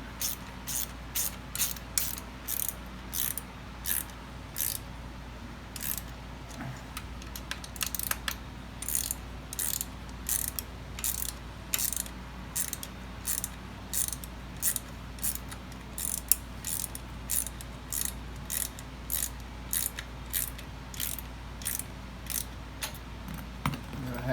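A ratchet wrench clicks steadily while tightening bolts during a Bafang motor install on a trike, giving a close, even series of sharp ratcheting bursts with brief pauses between strokes.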